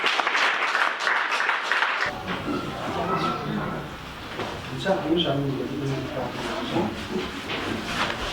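A church congregation at a Saturday service claps in welcome for about two seconds, a brief burst of applause before a voice begins speaking at length.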